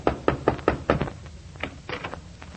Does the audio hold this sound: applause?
no